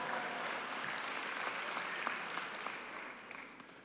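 Sustained audience applause fills a large hall at a hospital health gala, a dense steady wash of clapping hands with scattered sharper claps throughout and no speech over it.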